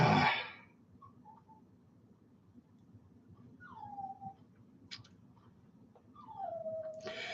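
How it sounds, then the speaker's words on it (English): A small dog shut in a bathroom whimpers in a few thin, rising-and-falling whines, faint and somewhat distant in a quiet room, after a brief burst of noise at the start. "The dog is in the bathroom over there."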